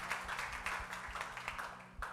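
A congregation claps at a Telugu Sunday church service, a steady rhythmic beat of many hands, faint and somewhat distant over a low hum.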